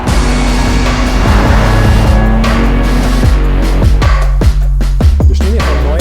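A pre-production BMW M3 sedan drives with a steady, loud engine drone and road rumble throughout, with rising and falling engine tones and gear-shift dips toward the end, no talking.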